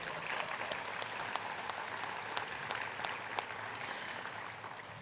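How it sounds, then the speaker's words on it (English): Steady applause from a crowd, dense clapping with a few sharper individual claps standing out, sustained throughout. "That's worth applauding."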